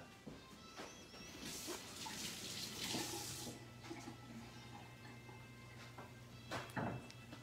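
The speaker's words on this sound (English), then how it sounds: "Let me wash my hands." Hands washed under a running kitchen tap while cooking. Faint, steady splashing water rises and falls, with a few soft knocks and no talking.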